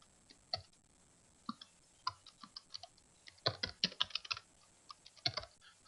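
Someone types on a computer keyboard while working in Microsoft Word, scattered single clicks giving way to quick bursts of keystrokes, close and fairly quiet with no speech.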